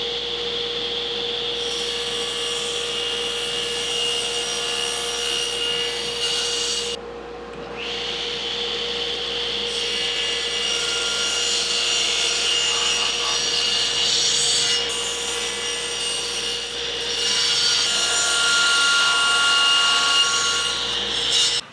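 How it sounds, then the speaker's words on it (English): A table saw cross-cuts a wooden board, a steady whining motor hum with the rough buzz of the blade in the wood, briefly dipping midway before cutting on loudly to the end. "Normally when you do a cross cut on a table saw, you use a sled."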